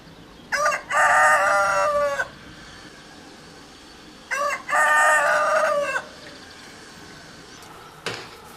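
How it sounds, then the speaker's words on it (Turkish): Two loud rooster crows, each a long drawn-out cock-a-doodle-doo, separated by a few seconds of quiet outdoor background, in Sinop, Turkey. "Bizim horoz öttü."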